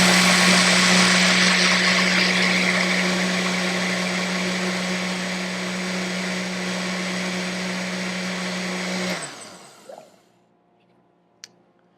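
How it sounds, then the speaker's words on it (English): A countertop blender runs loud and steady, whirring through a vegan burrito sauce made with peppers, then winds down and stops near the end, leaving near silence and a faint click. "but I'm going to just blend this a little bit longer"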